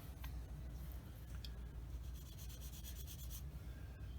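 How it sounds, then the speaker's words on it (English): A thin sanding stick rubs over plastic on a 1/72 Academy Ju 87G Stuka model kit, giving close, quiet, repeated scratchy strokes in an uneven back-and-forth rhythm. "now I want to take a thin sanding stick here."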